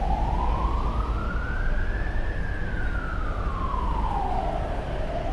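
Emergency vehicle siren on a busy Hong Kong street, a single loud wailing tone sweeping slowly up and then down over steady traffic rumble, fairly close.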